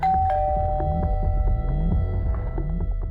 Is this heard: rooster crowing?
no